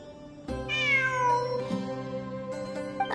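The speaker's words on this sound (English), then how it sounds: "It really is a cat." A cat meows in the Genshin Impact video game, several drawn-out, rising and falling cries heard close and clear over a steady musical backdrop, with no talking.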